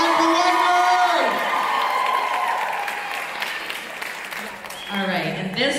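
A crowd at a dance competition claps and cheers loudly, with whoops and shouts, fading slightly before swelling again near the end.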